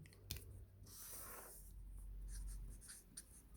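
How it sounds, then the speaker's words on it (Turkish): A pen scratches across paper as a note is written by hand, close and quiet, in short strokes with a brief tap near the start. "O zaman buraya ekstra not edelim."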